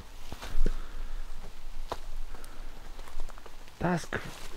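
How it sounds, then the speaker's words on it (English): Rain falls steadily outdoors in a classic car graveyard, a close patter on surfaces with scattered sharper drips and a few footsteps or voice sounds over it. "This rain's not going to be doing any of these guys any good."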